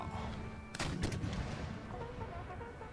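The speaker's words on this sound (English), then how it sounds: "Let's get the guns firing before we send up the Rangers." A cannon battery opens fire in an Empire Total War battle, giving a couple of quick booming reports over a low rumble of battlefield noise. There is no talk.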